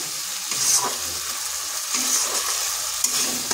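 Steady oily sizzle of mung dal frying with spices in a pan, with occasional stirring scrapes and small pops, close and moderately loud.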